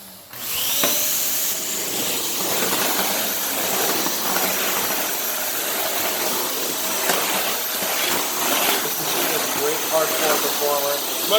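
A Dyson Cinetic Canister vacuum cleaner runs on a tile floor with a loud, steady high-pitched whine and roar that stays constant throughout, with small shifts as the nozzle moves.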